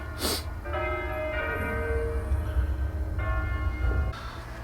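Church bells ring at a church in fog, sustained tolling tones that overlap and fade, heard at moderate distance over a low steady rumble.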